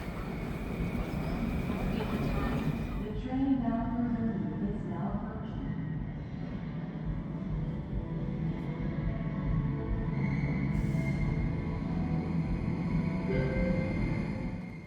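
Steady low rumble and hum from inside the Incheon Airport maglev train while riding, a continuous near drone with faint tonal whines, no talk.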